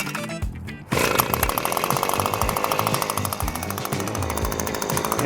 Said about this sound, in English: we're gonna blow the leaves out of the gutters with the gas-powered unit